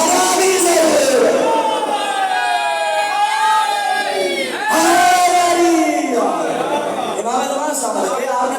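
A large crowd at a religious gathering in Rawalpindi chants a slogan in praise of Mola Ali, loud massed voices rising in two long swelling waves with a brief break between them.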